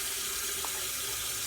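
Tap water runs steadily into a sink while a paint brush is rinsed, a close, continuous hiss and splash with no pause and no talking.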